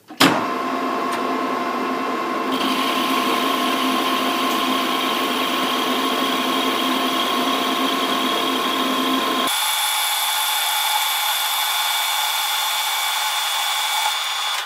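A lathe machines a free-cutting stainless steel workpiece, a steady close whirring hum with a high cutting whine that shifts pitch partway through and then continues alone without talk.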